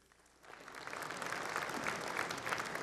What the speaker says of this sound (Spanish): Un fuerte aplauso para nuestras autoridades.